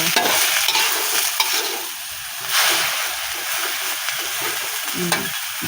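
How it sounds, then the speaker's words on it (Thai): Pickled winter melon with egg being stir-fried with a splash of water, a close, loud hiss and sizzle with repeated scraping stirs and a surge of steam midway. "ผัดฟักดองใส่ไข่นะจ๊ะ ใส่น้ำหน่อยนึง"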